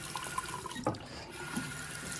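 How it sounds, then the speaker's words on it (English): Water running from a tap into a sink during paintbrush cleanup in an art class, a steady close gush and splash. "So let's go ahead and we're going to turn on the water."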